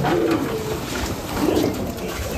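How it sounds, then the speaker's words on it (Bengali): Pigeons coo in a small cage, their soft throaty calls overlapping closely and continuously with no pause. "সব পায়রা তো দেখাতে পারবো না"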